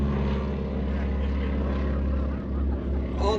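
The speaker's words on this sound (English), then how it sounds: "who happens to be her husband, Emiliano, flying this Super Stearman" A Boeing Super Stearman biplane with a wing walker on top drones overhead at an airshow, its radial engine and propeller giving a steady, loud rumbling hum throughout.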